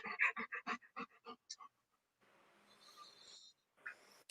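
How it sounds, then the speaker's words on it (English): A dog pants in the background in quick breathy bursts, loud at first, then a steadier rasping stretch, with a short final gasp. "I hear your dog in the background's looking for more camera time."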